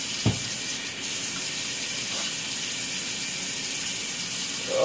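Hot water runs steadily from a kitchen tap into a sink while meatloaf is being cooked, a continuous hissing splash at close range with no talk over it.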